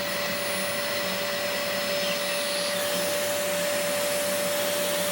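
A Dyson DC04 vacuum cleaner runs steadily on its own, a loud, continuous motor whine with a constant high tone and broad airy rush that holds unchanged throughout.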